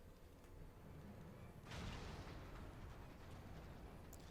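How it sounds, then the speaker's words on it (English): Airship cannons return fire in Final Fantasy XIV, a low rumbling barrage that erupts into a heavy boom near the two-second mark and then rolls on as a continuous dull roar of blasts. "All cannons, return fire, damage report."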